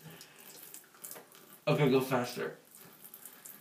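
Water is poured onto a man's face and nose at home, a loud splashing gush lasting under a second amid quiet background, with people talking before and around it.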